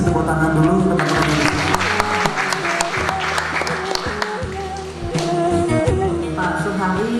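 A group of people applaud at a CIMB Niaga Syariah corporate social responsibility gathering, with dense, steady clapping lasting several seconds over music-like background sound.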